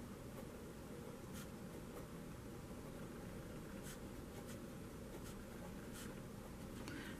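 Marker or chalk scratches steadily across a board while restrictions are written out, a continuous soft rasp with brief strokes, heard over a constant background hiss and fan-like noise.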